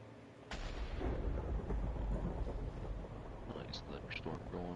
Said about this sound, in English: Nice thunderstorm going on out there.